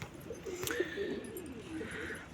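Pigeons coo softly nearby in a pigeon-keeping setting, a low throaty rolling call repeated over a couple of seconds against faint background noise.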